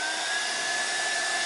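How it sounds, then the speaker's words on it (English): A hair dryer on maximum heat blows a steady whir with a high whine while it warms the adhesive on a Samsung Galaxy S6 phone. No one speaks. "So turn this hair dryer to the maximum"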